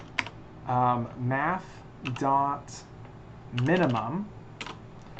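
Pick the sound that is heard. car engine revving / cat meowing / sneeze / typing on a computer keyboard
typing on a computer keyboard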